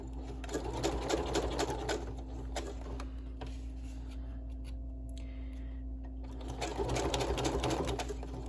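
A sewing machine runs steadily near the edge of a small Christmas advent craft tag, buzzing in a rhythmic zigzag stitch with a short pause midway before resuming, close and clear with no talking.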